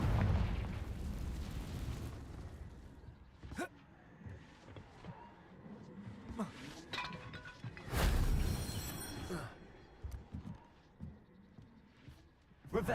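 Explosive blasting spells going off in a wizard video game, with a deep booming burst at the start and another around the middle, between scattered crackles, thuds and quieter stretches.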